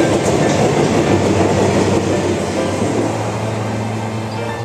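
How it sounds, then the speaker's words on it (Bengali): Steady, loud rumble of a Medinipur local train running toward Kharagpur, heard from on board, with a faint clickety-clack and a low hum that eases slightly toward the end, no talk. "আমরা এখন ট্রেনে উঠে পড়েছি"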